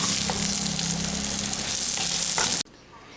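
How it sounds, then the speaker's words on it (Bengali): Onion, garlic and green chilli sizzle steadily in hot oil in a pan, a loud, dense frying hiss with faint stirring touches that cuts off abruptly near the end. "এই পেঁয়াজ রসুন লঙ্কাটা আমাদের হালকা করে ভাজা হয়ে গেছে।"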